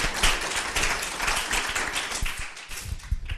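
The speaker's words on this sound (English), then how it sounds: "can we please give a round of applause to Nicolai." Audience applause at the close of a conversation with architecture critic Nicolai Ouroussoff, a steady wash of many hands clapping at moderate loudness that thins out toward the end, with no talking over it.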